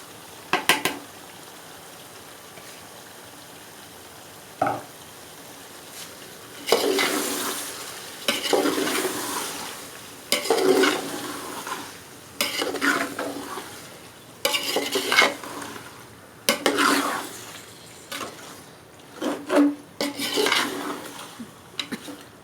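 Chicken fries with tomatoes in a pan while being stirred, giving bursts of loud metal spoon scraping and clatter against the pot over a low sizzle, close up, with pauses between strokes and no talking.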